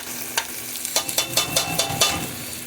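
Garlic sautés in a pan for a chicken and chorizo burrito, with quick scraping stirs in an uneven rhythm over a light sizzle, close and fairly clear, and there is no talking.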